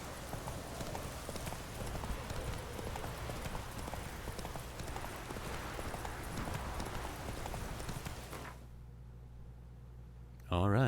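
Hoofbeats of the horse Roach galloping in The Witcher 3, a steady, rapid clip-clop rhythm running loud and close for about eight seconds under game ambience, then dropping away to a quiet low hum before a brief burst at the end.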